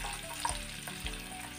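Ginger, garlic, green chili and finely chopped carrot sautéing in a pan, a soft continuous sizzle with a couple of light stirring knocks.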